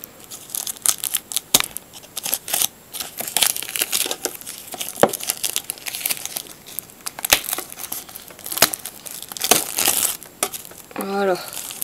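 A Pokébox Kyogre package, a Pokémon card tin, is unwrapped, its plastic wrapper crinkling and tearing in steady close-up bursts for several seconds, with a brief voice near the end.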